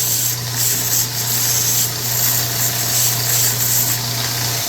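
Wood rubbed and sanded to round off the top and front of a small wooden piece for a toy tricycle spoke, a steady close scraping hiss that runs unbroken, with a low constant hum underneath.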